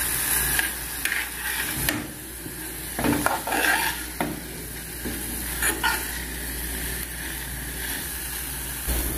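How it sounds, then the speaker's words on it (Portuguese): Sautéed potato leaves and onion are stirred in a pan, giving a steady sizzle broken by rattling, scraping strokes of the spoon that come in short clustered bursts. "Agora, por último, eu vou colocar uma cebola. Eu vou misturar tudo."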